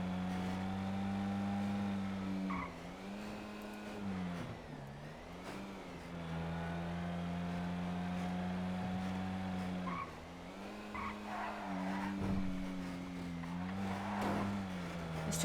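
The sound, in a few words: loud truck engine running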